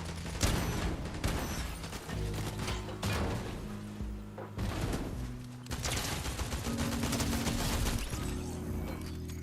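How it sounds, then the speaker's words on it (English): Dense gunfire in the video game Fortnite, with rapid bursts of shots rattling almost continuously at close range. Brief gaps break the volleys, and thuds and mechanical clatter are mixed in. "stop all that shooting. It's not very civil-like."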